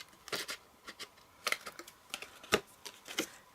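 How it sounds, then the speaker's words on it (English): Scissors cutting card for a gift card envelope: a string of short, crisp snips and rustles at an uneven rhythm, close and fairly quiet, with no talking. "And then cut that at a slight angle"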